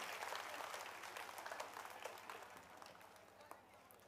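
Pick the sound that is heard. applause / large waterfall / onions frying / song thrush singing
applause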